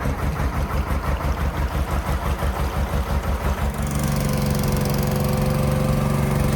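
A fuel boat's diesel engine chugs steadily nearby on a canal, a rhythmic low thumping that shifts into a smoother, droning idle partway through.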